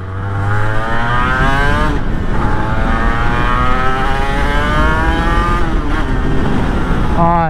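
A 1990s Honda NSR250R MC21 gull-arm 250cc two-stroke sport bike revs loudly and close, its buzzy, rising and falling engine note climbing and easing through several pulls without a break.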